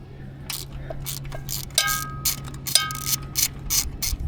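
A wrench works loose a small 12 mm pinch bolt: a run of crisp, evenly spaced ratcheting clicks, about a dozen in four seconds, close up over a low steady hum.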